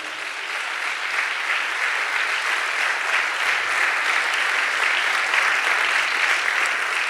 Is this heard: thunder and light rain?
no